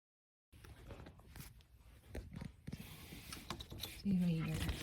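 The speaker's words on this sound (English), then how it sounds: "Just remove the pulley." Ratcheting wrench clicks and metallic clanks while removing the serpentine belt pulley on a 2004-2008 Toyota Prius, close and fairly quiet, irregular mechanical rattles ending in a brief squeaky scrape.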